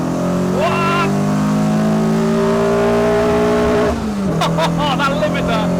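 Peugeot 309 GTi engine held high against its rev limiter, a loud steady rising drone that bounces off the limiter, then drops and revs again in short sharp blips near the end.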